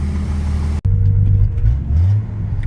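An old truck engine revs up loudly and drops back to a steady idle, the close, throaty rumble rising and falling in two surges before settling.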